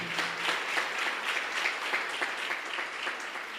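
A church congregation applauds during a Portuguese-language sermon, a steady wash of many hands clapping with some rhythmic emphasis, heard at moderate distance without speech.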